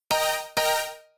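Two sustained supersaw piano synth chords built in FL Studio, played without volume ducking, each struck sharply and ringing bright and full before fading, the second decaying slowly to silence.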